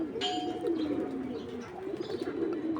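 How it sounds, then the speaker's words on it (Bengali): Pigeons coo and call from a loft and nearby tree, a soft overlapping chorus of low cooing over a steady hum, with one thin higher chirp near the start. "সবাই ডাকাডাকি করতেছে।"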